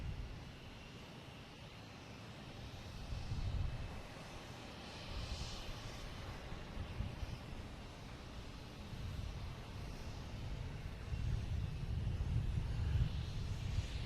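An American Airlines Embraer E175 regional jet rolls down the runway at Boston Logan Airport, a steady low engine roar swelling and easing at a distance amid broad wind-like noise, with no talk.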